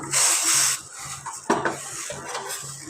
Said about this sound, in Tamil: சேர்த்து நல்லா கிண்டி விட்டுக்கோங்க